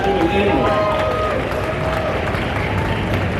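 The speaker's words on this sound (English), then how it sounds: "I think that deserves a round of applause for rescuing animals" An audience breaks into steady, dense applause and crowd noise at a theme park industry trade show, sustained clapping filling the space with a few voices mixed in.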